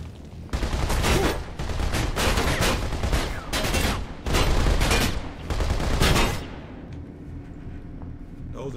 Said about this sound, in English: Those are definitely the bullets.